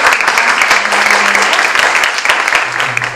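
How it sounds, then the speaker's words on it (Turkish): Audience applause after a talk on healthy eating, a dense wash of clapping that stays steady and fairly loud throughout, with a faint hum in the background. "Evet, bir alkış istiyoruz."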